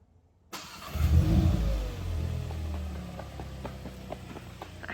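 A VW MK8 GTI starts up and rolls into a garage, its engine swelling with a brief low rev before easing to a quieter, steady hum, with light ticking and clicking sounds as it creeps forward.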